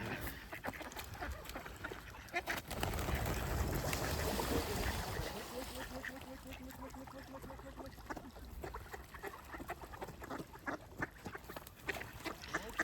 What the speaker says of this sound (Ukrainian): Такої кількості качок і ще напевно, не було.